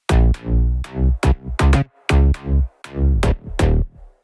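Deep, punchy synth bass notes hit in a choppy rhythm, each stab thick and layered with a quick decay, playing alone for several seconds.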